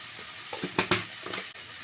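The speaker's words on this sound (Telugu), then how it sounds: "అల్లం పేస్ట్ వేగుతుంది కదా ఫ్రెండ్స్, ఇప్పుడు మనం దీంట్లో కారం వేసుకుందాము" Ginger paste sizzling in hot oil as chili powder goes in: a steady, close hiss of frying with a couple of sharper crackles and stirring scrapes, no talking.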